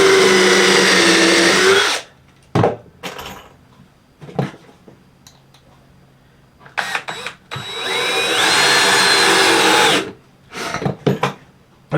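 Power drill countersinking screws into wood for a flower stand, heard as several loud, close whirring bursts separated by short quiet gaps.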